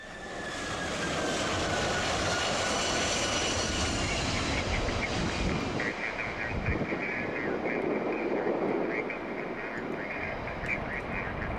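A Boeing 767 jet airliner comes in to land, its engines a loud, continuous roar with a whining tone that holds steady and then shifts as the aircraft passes, with a voice faintly audible beneath.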